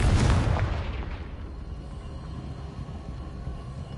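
Confringo explosive spell detonating in Hogwarts Legacy: one loud close boom that bursts at once, then a long rumbling tail that fades over several seconds.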